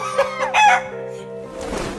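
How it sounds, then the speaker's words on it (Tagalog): A Jersey Giant chicken, a very large breed, crows loudly in a clear close call, then gives softer clucks. "Ang tawag sa lahi ng manok na ito ay Jersey Giant at ang maximum size nito ay 7 kilo."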